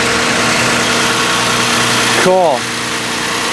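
A 2009 Ford Flex with a freshly installed K&N intake idles while warming up, a close, steady engine drone that dips briefly near the end as a voice speaks a single word.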